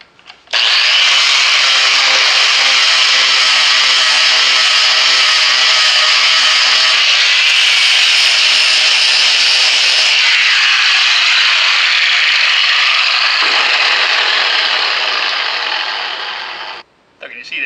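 Angle grinder fitted with an 80 grit flap disc grinding a metal strip, a loud, continuous harsh rasping whine that holds steady for over fifteen seconds before dropping off near the end.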